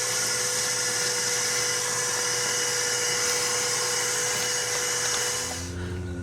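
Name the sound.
vacuum sucking debris out of an engine intake valley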